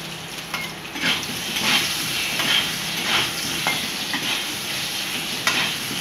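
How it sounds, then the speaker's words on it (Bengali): Eggs sizzle in a hot pan with a steady frying hiss, broken by occasional sharp crackles and spatters, close and continuous with no talking. "ডিমগুলো ভাজা হয়ে গেছে"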